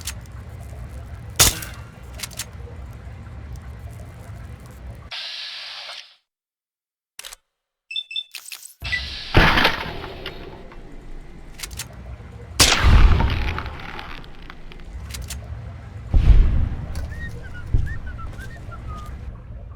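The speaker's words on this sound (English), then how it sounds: "Think you can take care of that with your BB gun? Just aim and shoot." BB gun shots ring out at a radroach in Fallout 3, a few sharp isolated cracks spread out among quieter stretches and a near-silent gap, close and fairly loud.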